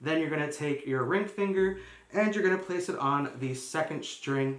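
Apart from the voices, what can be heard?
None of the usual background noises is heard.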